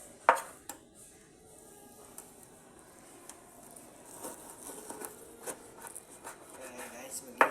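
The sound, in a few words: slicing pork for adobo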